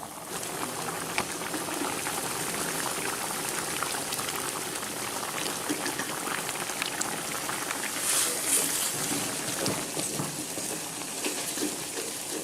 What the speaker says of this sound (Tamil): இப்போ தண்ணி கொதிச்சிருச்சு.